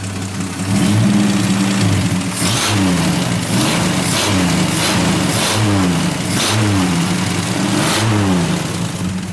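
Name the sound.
car engine revving with exhaust removed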